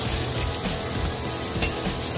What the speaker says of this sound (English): And then we'll put in our shallots